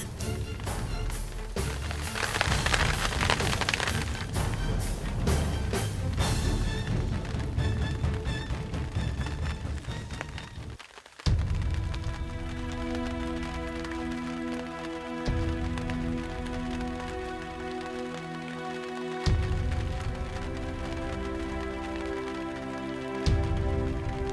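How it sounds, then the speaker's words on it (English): Heavy rain with bursts of wind pours down steadily in a dense, roaring wash, with a brief drop-out midway before the downpour resumes at full strength. "But a burst of wind and hard rain was about to make its mark."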